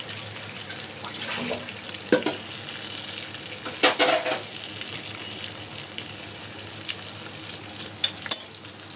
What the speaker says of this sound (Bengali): তো এই তো গরু মাংসের মশলাটা কষিয়ে নিচ্ছি